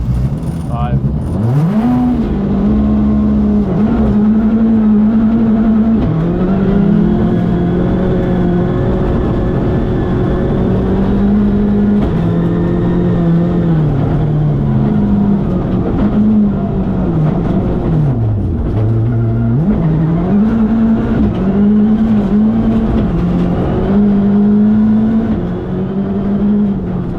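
Rally 2 car engine revving hard and continuously throughout, loud and close, with pitch rising and falling through gear changes and on-throttle pulls, a voice briefly audible under the engine.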